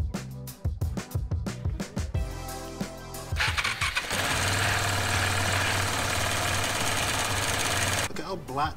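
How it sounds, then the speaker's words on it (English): A KTM 690 enduro motorcycle engine with a suspected failing counterbalancer shaft bearing cranks over in stuttering bursts, then fires and runs with a loud, rough, continuous clatter before cutting out near the end. "This is one of the reasons I've got to rebuild the engine. It started making this really weird sound."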